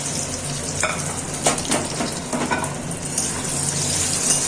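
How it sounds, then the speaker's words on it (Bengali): Half-boiled potatoes fry in a pan of hot oil, giving a loud, continuous close-up sizzle broken by brief spattering bursts and stirring scrapes, with no speech. "এখন এই আলুগুলোকে আমি একটু ভেজে নিচ্ছি"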